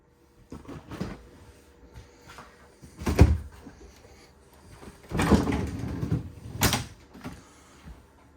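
Samsung refrigerator doors in a 2022 Riverstone Legacy toy hauler RV being unlatched and swung open, a few close thumps and rattling clunks spread across the stretch with quieter handling noise between.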